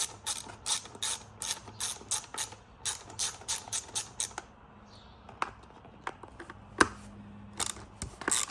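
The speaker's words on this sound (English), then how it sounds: "you can go ahead and take out that T25 bolt" A ratchet clicks rapidly in repeated bursts to remove a T25 bolt from the airbag bracket of a Tesla steering wheel, followed by quieter scattered clicks and taps.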